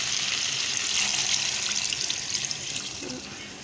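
Water poured from a glass into a cooking pot of tendy gosht (round gourd and meat) before it is set to simmer on low heat, a steady close splashing pour lasting a few seconds with no talk.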